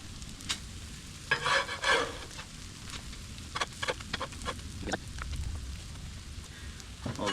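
Pancakes cooking on a Blackstone griddle give a steady broad sizzle, with brief bursts of spatula scraping and tapping against the flat top, close by and with no voices.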